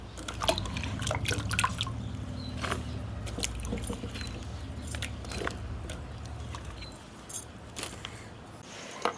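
Washed elephant foot yam (jimikand) pieces being drained in a kitchen strainer, with water dripping and trickling steadily and pieces knocking and shifting against the mesh, close up with no talking.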